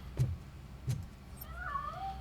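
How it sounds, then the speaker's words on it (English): A cat meows several times in the video game Robocop: Rogue City, with two short low cries followed by a longer rising and falling meow, fairly close and heard alone. "That cat must be hiding inside."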